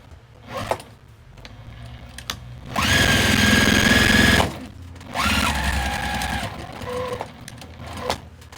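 A sewing machine stitches in the ditch on a quilted tote bag in two loud close bursts of rapid whirring, separated by quieter handling noise and a brief pause.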